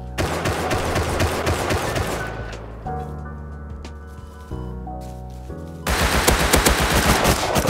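Bursts of Thompson submachine gun fire in the video game Rust, rapid loud volleys at the start and again near the end with a quieter tonal stretch between, no talking.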